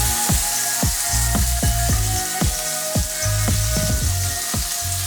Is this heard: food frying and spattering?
yes